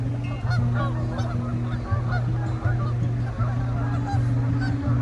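Canada geese honk loudly and continuously, several birds overlapping in repeated nasal calls close by, with a steady outdoor background.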